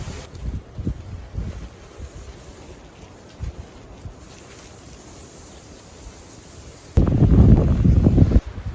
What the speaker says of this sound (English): A snowy, windy night.